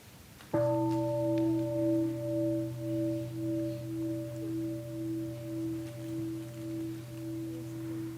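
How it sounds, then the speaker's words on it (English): A mindfulness bell struck once at a summer retreat opening talk, its clear tone ringing out alone and sustaining for several seconds with a slow, gentle pulsing as it fades. "maybe we will have one more sound of the bell"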